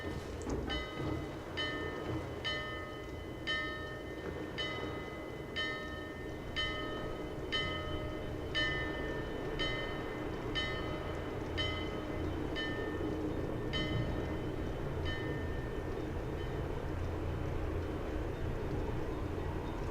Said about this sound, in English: The ship's gonna come in and dock.